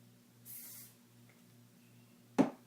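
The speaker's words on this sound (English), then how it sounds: "then you're going to grab your hairspray, give it a little spritz." A single short hiss of hairspray misted onto a two-inch section of hair while styling soft beachy waves, close and fairly quiet over a low steady hum, followed moments later by a brief dull knock.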